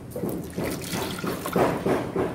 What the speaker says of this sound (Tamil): இப்போ இதில் தண்ணி ஆட்